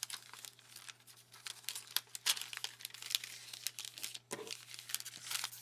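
A plastic sticker storage bag is handled close by, giving faint, continuous crinkling and rustling with small irregular crackles.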